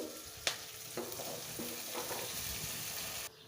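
Washed Malabar spinach hits a pan of cooked spices and cumin paste, giving a steady close sizzle with a few sharp stirring clatters and spoon scrapes, ending abruptly.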